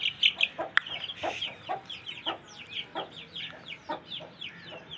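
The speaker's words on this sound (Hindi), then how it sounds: "ये दो मुर्गी हैं ब्लैक कलर की" Chickens clucking steadily on a farm, including two black hens and chicks, with a rapid series of close, repeated clucks and short calls and one sharp bird call.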